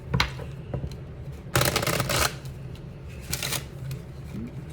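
Cards riffle in quick bursts, two louder shuffles with softer flicks between, close to the microphone.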